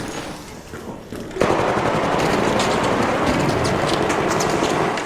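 Sustained rapid automatic gunfire in a video game erupts after a quieter lead-in, loud and continuous with dense repeating bursts through the rest of the stretch.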